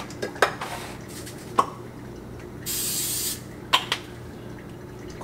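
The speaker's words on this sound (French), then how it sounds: "Coconut spray." Coconut oil cooking spray lets out one short hiss of about half a second, set among scattered clinks and taps of dishes and utensils nearby.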